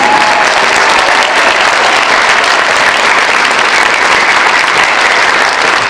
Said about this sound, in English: Can we give a big round of applause to our elders,